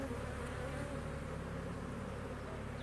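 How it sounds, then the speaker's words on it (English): Agitated bees swarm around an open beehive, a dense, continuous buzzing drone that stays loud and close throughout. "These are some buggy bees today."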